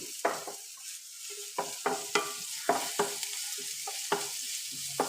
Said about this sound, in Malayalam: ചുമന്നുള്ളിയും പച്ചമുളകും നല്ലപോലെ മൂത്തു